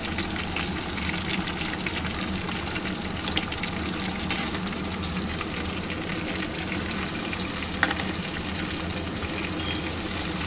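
Ginger and garlic fry in a pan with a steady, dense sizzle, close and even throughout, broken by an occasional sharper clink or stir.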